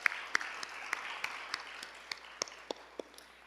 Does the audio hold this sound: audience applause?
yes